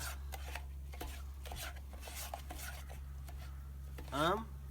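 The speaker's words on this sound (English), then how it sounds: "Let's mix it up with the rice." A utensil scrapes and stirs a thick peanut-butter-like sauce into rice in a pot at a backpacking camp, producing soft, irregular scraping strokes over a steady low hum, with a short vocal sound near the end.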